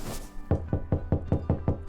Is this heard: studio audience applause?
no